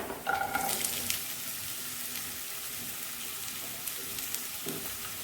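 Sliced onions hit hot oil already browning garlic and green chili in a pan, giving a steady, moderate sizzle with a few clinks and stirring scrapes early on.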